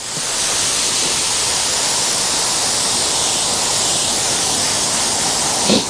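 Water sprays steadily from a hose onto freshly laid roll-out lawn turf, a loud, continuous hiss that holds evenly throughout.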